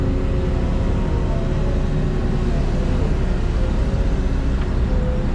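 A heavy vehicle engine held at full throttle while hauling dirt for a pond job, a loud, steady, low droning roar that runs on without a break, close to the microphone, no talking.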